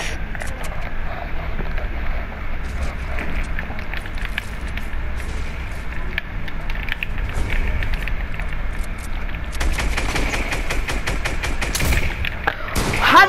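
Fortnite creative-mode gunfire, with bursts of rapid game shots and clattering effects that thicken toward the end, heard alone without talk.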